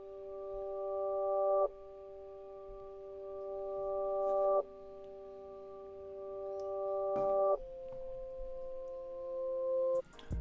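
A reversed, pitched-up piano sample filtered through two EQs in FL Studio, heard as sustained chord tones that swell steadily louder then cut off abruptly, repeating four times in a rising-and-chop rhythm with no talking.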